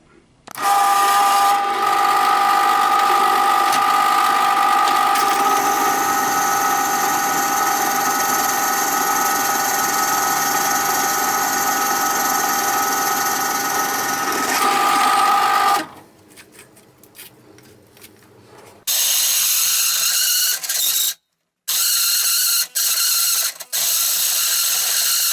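A power drill, starting to smoke from overuse, whines loudly and steadily for about fifteen seconds, then stops; after a pause it runs again in several short bursts.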